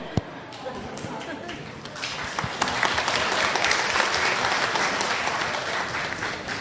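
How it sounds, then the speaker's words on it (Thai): An audience at a Thai lecture on natural energy breaks into applause for a volunteer, with scattered claps that swell into a full, steady round from a large crowd, and voices mixed in underneath. "ปรบมือเจ้าพ่อเชียงใหม่นะครับ"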